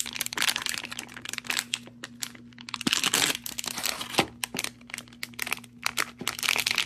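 A Superplastic vinyl figure blind-box package crinkles and tears as it is ripped open, close and continuous with sharp crackling bursts and brief pauses, over a faint steady hum.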